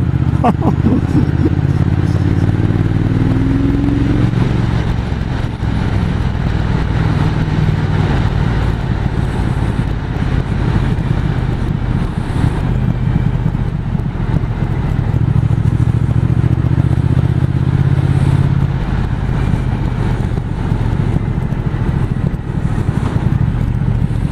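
A Triumph 1200 Speed Twin motorcycle cruising at low revs, about 1500 rpm in fifth gear on a winding mountain road: a steady, deep engine drone with wind rush that holds evenly throughout.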